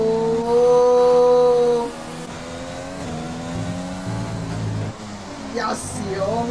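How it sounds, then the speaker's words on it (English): Simulated F1 race car engines from F1 2020 at the Spanish Grand Prix, a steady high-pitched harmonic whine that sags after two seconds, with commentary voices running over the engine noise. "So it sounds like Mackie's car is on low fuel mode."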